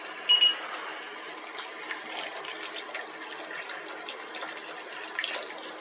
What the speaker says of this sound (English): Then I'm going to go ahead and pour some of my liquid in there.